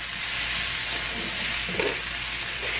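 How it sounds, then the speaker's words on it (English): Vegetables for butternut squash soup sizzle and caramelize in a pan, a steady hiss of frying with a few soft stirring bumps, close and unbroken. "we're caramelizing, we're becoming translucent, we're cooking down"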